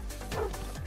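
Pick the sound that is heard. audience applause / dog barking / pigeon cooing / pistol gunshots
dog barking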